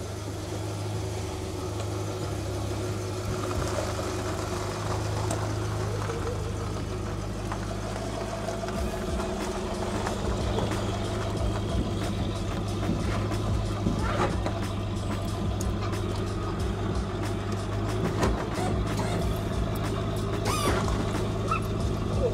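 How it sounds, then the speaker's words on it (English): A Lincoln MKV car engine idles steadily with a low exhaust rumble, running continuously with faint clicks and knocks scattered over it. "The exhaust on it's incredible."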